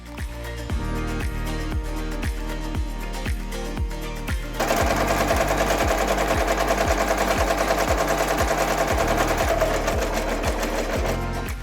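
An embroidery machine stitches a hanging quilt, its needle thumping in a fast regular rhythm close by, growing denser and busier partway through.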